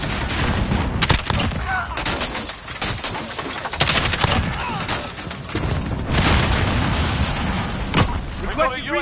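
A Call of Duty Modern Warfare (2019) hardcore team deathmatch brings bursts of gunfire and booming explosions, including a grenade blast, all dense and loud under excited shouting from players.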